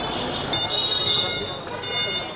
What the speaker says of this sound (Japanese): 相変わらずクラクション鳴りっぱなしでカオスな道路状態ですね。